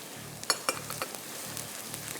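Garlic sizzles and fries in a hot pan with steady crackling and a few sharp stirring clinks, close and fairly quiet, with no voices.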